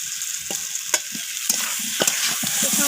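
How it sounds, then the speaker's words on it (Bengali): Potatoes and kohlrabi stir-frying with spices in a pan, a close sizzling hiss with repeated scraping stirs of the spatula every half second or so. "তো আলুটাকে মশলার সাথে কষিয়ে নিচ্ছি আমি।"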